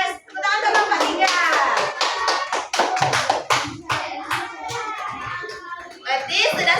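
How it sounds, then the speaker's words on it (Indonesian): Children in a classroom clap for a group of classmates, a bright, uneven burst of many small hands that swells and thins in waves, with young voices calling out amid the clapping. "Tepuk tangan ke kelompok 3"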